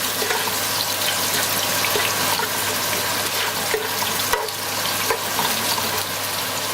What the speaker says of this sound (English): Next what we're going to add, the onions. And of course, we're going to give that a quick stir.